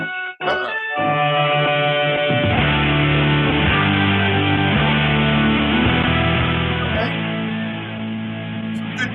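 A Christmas rock song plays loudly, with distorted electric guitar power chords that change every second or two, and no voices over it.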